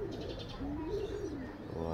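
A pigeon coos close by at a village home, a low rolling warble running continuously through the moment with faint chirps above it.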